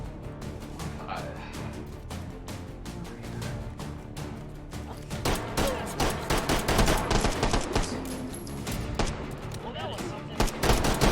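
Gunfire in the VR shooter H3VR, rapid bursts of shots that grow denser and louder partway through, with someone speaking briefly over the shooting.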